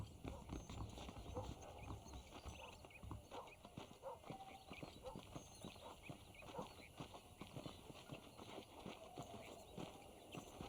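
Horse hooves clip-clop at a steady walking pace while riding through a town in the Western video game Red Dead Redemption, quiet and evenly rhythmic with faint background ambience.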